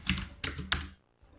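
Keys clack in three sharp bursts on a Rosewill mechanical keyboard with blue clicky switches, close and crisp, then a brief quiet gap before a faint tap.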